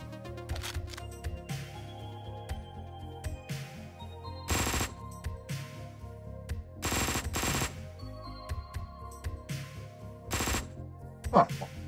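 Gunfire in the shooter video game Cristales, with bursts of automatic fire and single shots cracking at irregular intervals over a low background rumble, moderately loud, and no speech.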